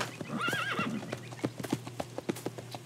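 A horse in Red Dead Redemption 2 whinnies with a wavering neigh, followed by a run of clip-clopping hooves, close and clear over a low game background hum.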